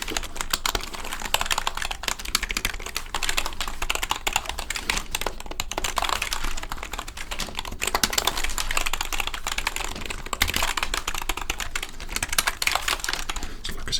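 Keys clatter steadily on a Lightspeed RGB gaming keyboard, a dense, continuous run of close clicky typing with no pauses and no voices.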